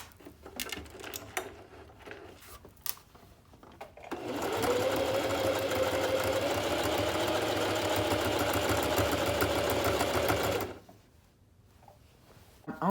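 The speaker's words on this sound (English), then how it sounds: "I'm only sewing that little edge that I cut off." A sewing machine zigzag-stitches along the cut edge of quilted jacket fabric, running in one loud, steady whirring burst of about six seconds, framed by quieter handling and fabric rustle before and after.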